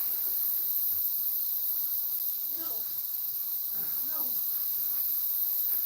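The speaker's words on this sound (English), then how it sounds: "Here's the cicadas again, though." A steady, high-pitched cicada buzz fills the background continuously, with a couple of brief voices of children playing in water in the distance.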